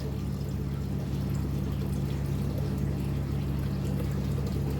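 Water pours off the gravel in an aquarium tank, a steady and fairly loud rush of liquid that runs continuously over a low constant hum, with no voices.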